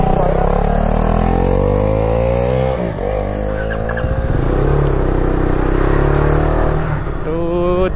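KTM Duke 200 motorcycle ridden on a countryside road in Sikkim: the single-cylinder engine drones loud and close, its pitch climbing and easing through revs and gear changes over steady wind rush.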